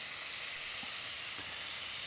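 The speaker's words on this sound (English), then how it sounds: "I'm just gonna cook down some bacon" Bacon browning in a pan with olive oil, a faint, even hiss of sizzling fat with a couple of soft pops, steady and fairly quiet.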